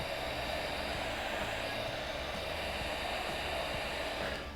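A hair dryer blows steadily up close to dry black paint on a stencil, a continuous airy rushing whir that holds the same level throughout with no talking.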